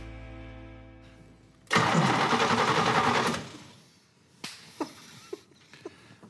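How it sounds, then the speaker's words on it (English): A 1966 Oldsmobile Cutlass engine fires up into a loud, close roar for about a second and a half, then falls away to quiet, followed by a few sharp scattered clicks. "it's a good running engine"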